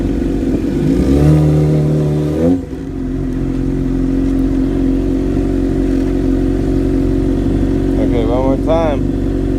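A motorcycle engine runs loud and close as a beginner rider prepares to set off, revving up briefly near the start and then settling into a steady idle, with a short voice near the end.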